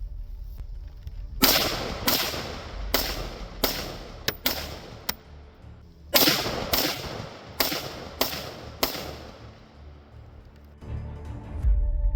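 An AR rifle in .223 and one in 6.5 Grendel fire outdoors in two volleys of loud, sharp reports, each run of about six shots spaced roughly half a second apart with a pause between the volleys.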